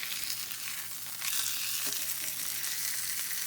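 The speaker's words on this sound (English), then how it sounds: "Every time I flip it after the 15 to 20 seconds, right, there's a little more caramelization that's taking place on the steak." A steak sears in a hot pan while being flipped repeatedly, giving a steady, close, loud sizzle that swells slightly partway through, with no voices.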